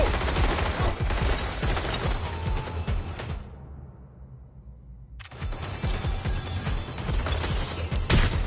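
Dense bursts of automatic gunfire and single shots in a Watch Dogs Legion firefight, loud and continuous, dropping away briefly before a fresh barrage erupts.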